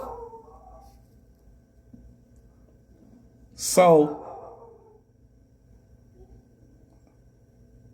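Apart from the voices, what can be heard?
blue-nosed bully dog barking outside window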